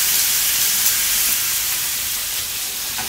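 Steak sizzling on a hot, smoking grill pan for Chinese pepper steak, a loud, steady hiss of searing meat that runs unbroken with no talk.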